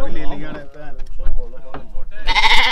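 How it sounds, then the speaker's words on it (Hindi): Goats bleating in a village in Malta: a run of close, wavering bleats overlapping one another, ending in a burst of rustling noise. "ये देखें जी बकरे देखें"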